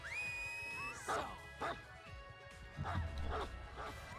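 A dog barks and yips several times in the Dead by Daylight video game, with short sharp calls that sit over game sounds.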